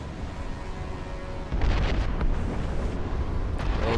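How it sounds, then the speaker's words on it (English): Heavy mortar explosions in the naval combat of Assassin's Creed Rogue: a low rumbling ambience breaks into a loud, sustained booming blast about midway, with further rumbling impacts continuing to the end. "They're within mortar range, that's all I know."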